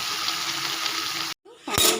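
Water poured into a cooking pan of partly cooked potatoes, a steady close hiss of running liquid that cuts off abruptly, followed after a short silence by a brief louder splash.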